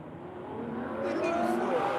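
A Ferrari station wagon drives past on a racetrack, its engine note swelling steadily louder as it approaches over about two seconds, with a continuous mid-distance roar.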